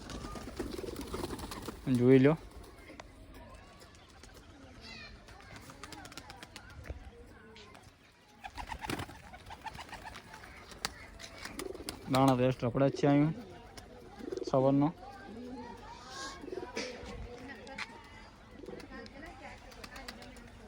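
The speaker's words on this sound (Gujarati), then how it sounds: "ફાઇનલી બધા કબૂતર આપણે આવી ગયા બારે" Pigeons in a home breeding setup coo in short throaty bursts, several calls clustered near the start and middle, while someone talks over them throughout.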